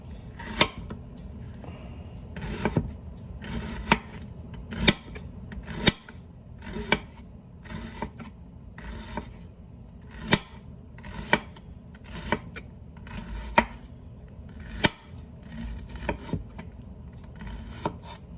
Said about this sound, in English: Then slice it into thin, like 1/8 of an inch pieces.